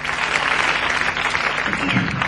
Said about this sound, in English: Just applause, isn't it?